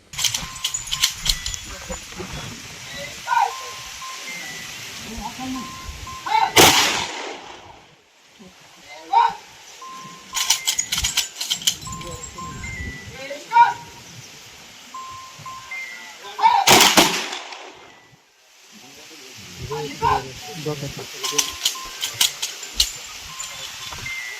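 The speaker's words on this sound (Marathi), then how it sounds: "सोलापूर ग्रामीण पोलीस दलाकडून बंदुकीच्या चोवीस फैरी हवेत झाडून मानवंदना देण्यात आली" A Solapur rural police rifle volley is fired into the air as a funeral salute for a soldier. Several sharp, loud cracks ring out in spaced bursts against crowd noise, while a voice narrates throughout.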